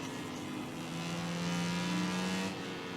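Rival riders' motorcycle engines in MotoGP 19 racing, a loud continuous high-revving drone with a rising pitch sweep as bikes run close together, dense and steady with no talk.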